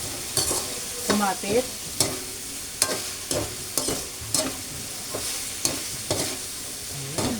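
Fried chicken feet being stirred in a pan for adobo, a spatula scraping and clattering in irregular strokes over a low sizzle, close and fairly loud, with a brief spoken word.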